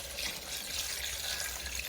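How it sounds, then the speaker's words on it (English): Water pouring steadily into a pot of beef stew, a continuous close, broadband rush with no talk over it. "Now I'm adding some water."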